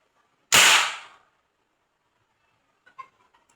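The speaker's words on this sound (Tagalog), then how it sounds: "talagang malakas yung tunog na impijulin kung walang bala" A PVC toy gun fires empty, without ammunition: one sharp, loud crack that decays over half a second, followed by a few faint clicks of handling.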